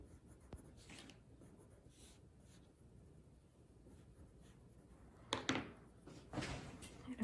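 Crayon scratching and rubbing across paper while drawing Poseidon and his trident, a soft continuous scraping close by with a few louder strokes near the end.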